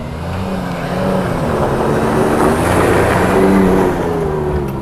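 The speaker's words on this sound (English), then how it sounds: "here comes Tin. I'm gonna see if he can make it on that gas" A Toyota truck on snow-wheeling trail tires accelerates along a snowy trail, its engine droning and building steadily in a loud, continuous roar that swells toward the middle and end, with no voices.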